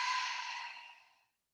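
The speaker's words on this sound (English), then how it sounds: "Open mouth, exhale," One long breath let out through an open mouth at the close of an evening yoga flow, a soft airy sigh that fades to silence over about a second.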